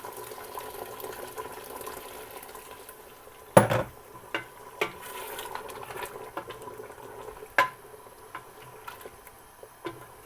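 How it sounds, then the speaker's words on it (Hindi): Boiled water hisses and bubbles as it is poured into a hot pressure cooker of aloo gosht, a steady sizzling wash broken by a few sharp clanks of metal. "मैं तकरीबन इसमें 3 कप पानी के डाल रही हूँ।"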